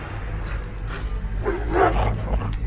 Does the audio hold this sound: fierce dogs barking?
yes